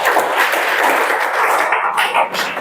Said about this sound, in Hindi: ताली बजाओ